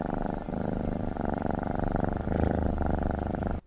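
A cat purring in a film scene, a loud, close, continuous rhythmic rumble that swells slightly midway and then cuts off abruptly at the end, with no talk over it.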